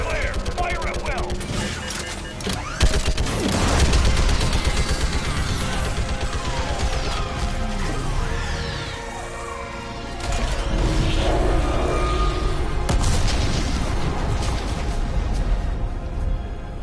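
Heavy gunfire and explosions in Mass Effect 3, a dense, loud barrage of rapid shots, booms and clattering impacts lasting throughout, with voices shouting amid the din.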